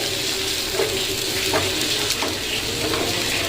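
Bread slices fry in hot oil for bread pakora, giving a steady, close sizzle that runs evenly throughout with no speech.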